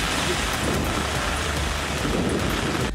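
Heavy rain pours over Idukki in Kerala, a dense, continuous roar of drops hitting surfaces with a steady, close hiss throughout and no talking.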